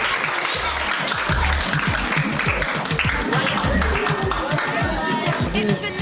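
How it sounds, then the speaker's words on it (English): Dense applause from an audience at a community event fills the room, steady and close, with cheers and chatter mixed into the clapping throughout. "A round of applause for yourself."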